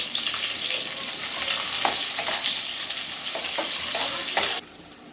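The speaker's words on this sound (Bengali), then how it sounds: "পেঁয়াজটা একটু লাল লাল করে ভাজবো।" Chopped onions fry in hot oil with cinnamon, cloves and small cardamom, a loud close sizzle with a few stirring knocks that holds steady and then suddenly drops away near the end.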